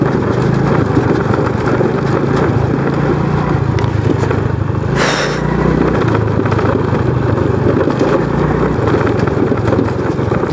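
A Honda Dio scooter ridden off-road near Dipang Lake gives a loud, steady engine drone that runs throughout, with one brief dip in the middle before it resumes.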